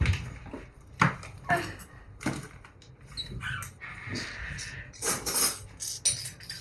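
A tablespoon clinks and scrapes against dishes while dry yeast and sugar are measured out in a home kitchen. Scattered knocks and rattles come in uneven bursts, close by, with a few brief squeaky handling noises between them.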